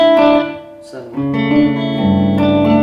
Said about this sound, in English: spring reverb-y stuff, a bit of delay stuff.